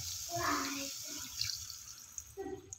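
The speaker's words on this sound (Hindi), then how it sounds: "अब इसमें डालेंगे हम पानी।" Water poured into a pan of fried egg curry masala makes a short splashing rush, then fades into soft bubbling and faint sizzles.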